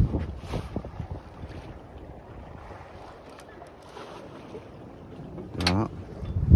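A solo Figaro sailboat moves through calm sea in a light 9-10 knot wind, with soft wind rushing across the microphone and gentle water sounds; a few brief louder gusts.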